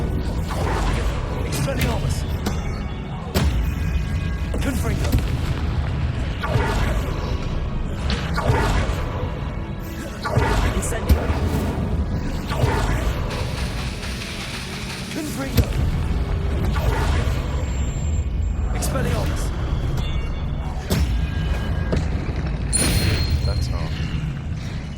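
Confringo spells fire again and again in the Hogwarts Legacy video game, giving dense, repeated fiery blasts and whooshes over a busy combat background. A voice calls out spell names throughout.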